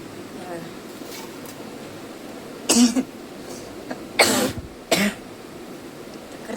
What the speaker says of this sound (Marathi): हिरवी मिरची टाकल्यामुळे ठसका झाला.